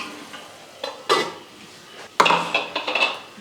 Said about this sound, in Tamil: கரண்டி எடுத்துடுறேங்க நான்.